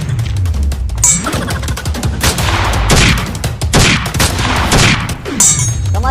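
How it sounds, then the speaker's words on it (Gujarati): Gunfire sound effects in a comedy skit crack in loud, rapid volleys and repeated sharp bursts, with echoing booms between shots. "હવે બંદૂકો ફોડો લ્યો."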